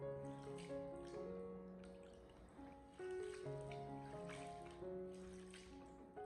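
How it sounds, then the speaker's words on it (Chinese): Bean sprouts swished and gently scrubbed by hand in a basin full of water, a steady soft sloshing and trickling with small splashes, close and fairly quiet with no talking. "用手给它不停的轻轻的抓洗一下，清洗掉绿豆芽里面的一些灰尘杂质"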